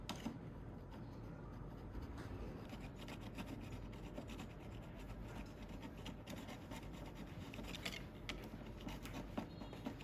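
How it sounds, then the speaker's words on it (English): A utility knife blade scraping old plastic buildup off a car headlight lens with light pressure, a steady dense rasping scrape running continuously and close up, with no talking. "I'm using a utility knife to gently scrape it off without scratching the headlight"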